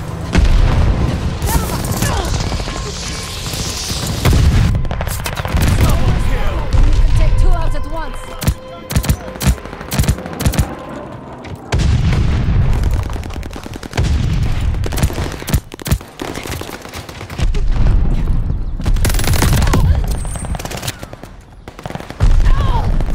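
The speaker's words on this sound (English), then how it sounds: "Teammate called a firebomb." Firebomb strike explosions and gunfire in Call of Duty: Vanguard multiplayer, heavy booming blasts rolling in waves with bursts of rapid gunfire and crackling between, loud and close throughout.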